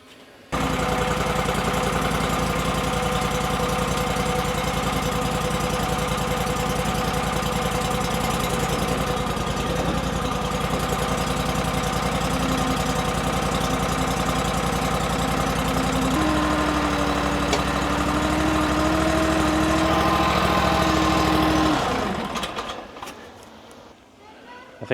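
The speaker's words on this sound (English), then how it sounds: "I don't know if you just heard the baby rev the ATV." An ATV engine idles steadily with a low, even drone, then gets a short rev partway through before settling back and cutting off near the end, heard close up and on its own.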